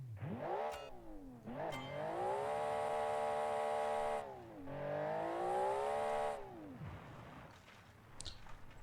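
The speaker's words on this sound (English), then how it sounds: "that's the first engine stall in this season" A rally car engine in a racing video game revs with a rising and falling pitch, cuts out abruptly, then fires and revs again before stalling and sputtering down to near silence, loud and without speech.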